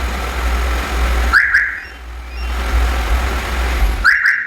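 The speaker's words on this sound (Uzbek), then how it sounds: "Bu mashinaga signalizatsiya qo'yib berdik." A newly installed alarm on a VAZ-2107 Zhiguli car gives two short, bright electronic chirp bursts a few seconds apart over a low, steady rumble.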